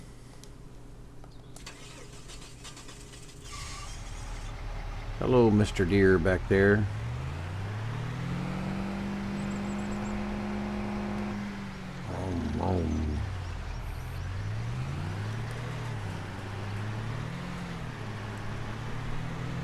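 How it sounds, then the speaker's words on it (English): Pickup truck engine starting and running on a ranch, a steady mid-pitched drone that rises and shifts as it pulls away toward another field, with someone talking briefly over it. "Let's go hop in the truck. Now we'll ride over to the other field."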